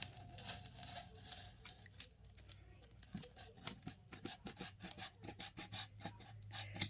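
Close scratchy sawing strokes of a hand cutter slicing through styrofoam, irregular rasping pulses that speed up into a quicker run of short strokes in the second half.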